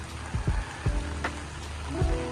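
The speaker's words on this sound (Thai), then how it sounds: "บรรยากาศฝน ตก มันไม่ใช่ฝนตกลินนะเนี่ยมันหนักกว่าตกลินอีกนะ" Heavy morning rain falls across a garden, a constant dense hiss with a few soft thuds of drops striking nearby surfaces.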